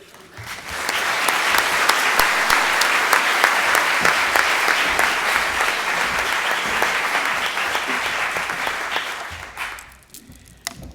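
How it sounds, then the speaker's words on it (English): A lecture hall audience gives a warm, sustained round of applause for a speaker taking the floor at a public lecture, dense clapping holding steady for about nine seconds before fading out abruptly. "I would like to invite Ghaith Abdul-Ahad to a very warm round of applause to take the floor"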